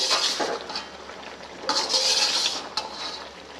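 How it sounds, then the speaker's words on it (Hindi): A spoon is stirred through namkeen beef karahi, cooked without oil or vegetables, in a pot, making bursts of metallic scraping and clinking in short, uneven strokes close by. "चम्मच को हिलाते रहें बराबर।"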